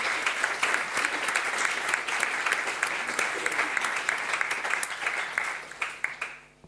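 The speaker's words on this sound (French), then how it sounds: "On applaudit." Lecture audience bursting into sustained applause, dense steady clapping from many hands that thins out into a few scattered claps at the end.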